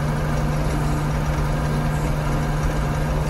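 A tractor engine idles close by in a steady, unbroken low rumble with a constant droning hum, and no voices are heard.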